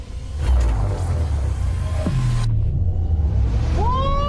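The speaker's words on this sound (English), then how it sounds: "This is a Blazer EV SS. Let's see what wild mode can do." A Chevrolet Blazer EV SS electric SUV accelerating hard in wild mode, a loud continuous whoosh and road rumble with a rising then dropping electric motor whine, fading into a fresh high whine at the end.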